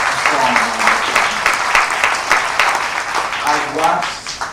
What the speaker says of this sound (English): you really need to give yourselves a strong round of applause